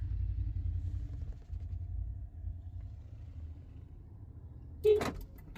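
A Honda Civic FC5 auto-locks and folds its side mirrors: after several seconds of faint low rumble, a short whirring click sounds near the end, brief and close.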